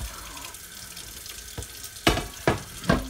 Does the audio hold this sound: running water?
yes